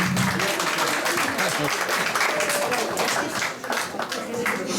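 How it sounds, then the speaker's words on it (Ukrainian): Audience in a church applauding during a Saint Nicholas children's celebration, a dense, loud wash of clapping that continues throughout, with murmured voices mixed in. "Ваші оплески для нашого Дениска Чемного, для Остинки і для всіх наших дітей"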